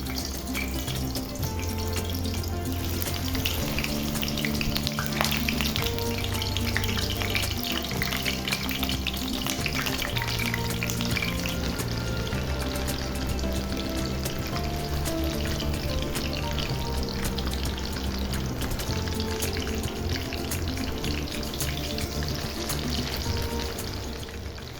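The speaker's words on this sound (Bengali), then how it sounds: "তেল গরম হয়ে গেলে এবার আমি বানিয়ে রাখা পাতুরিগুলো কড়াইয়ে দিয়ে দিচ্ছি।" Lentil paturi wrapped in gourd leaves frying in hot mustard oil, a steady, even sizzle with a faint background hum throughout.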